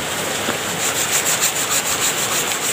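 A motorcycle cylinder head from a CB or Tiger being sanded flat, a steady close gritty rubbing with a quick back-and-forth rhythm, continuous and loud with no voices.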